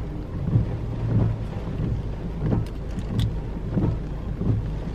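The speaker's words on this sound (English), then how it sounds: "So it's so windy out here" Strong outdoor wind buffets the microphone in a steady low roar with periodic gusty surges, loud and continuous with no voices over it.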